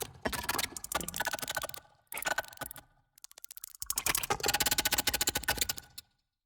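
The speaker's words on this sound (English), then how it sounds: "we'll start out with the clicking layer" Dense clicking and ticking layer for a sound-design redesign, built partly from a very hot brick taken from an oven; rapid crackly clicks in bursts with short gaps, close and crisp, no voices.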